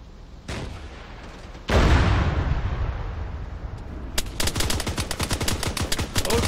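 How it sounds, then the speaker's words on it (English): Enemy gunfire in the military shooter Arma 3: a sharp shot, then a heavy blast with a long rumbling tail, followed by rapid bursts of automatic fire cracking close and loud. "Oh, they're shooting at us."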